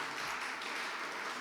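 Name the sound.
applause for Edo Development Aid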